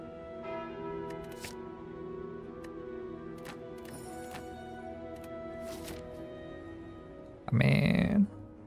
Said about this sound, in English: Guess it's a bell.